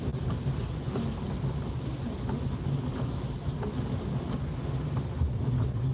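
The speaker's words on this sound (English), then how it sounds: "It's a bit of rain." Steady rain and road spray roar under a car driving at night on the motorway, a continuous low rumble and hiss with no voices.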